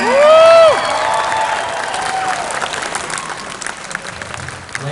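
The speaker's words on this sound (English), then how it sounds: "Let's give him one more round of applause for Brandon" Crowd applause and cheering at a convention cosplay contest, loud dense clapping that runs throughout, opening with a shrill whistle or whoop over the noise and a few scattered shouts from the audience.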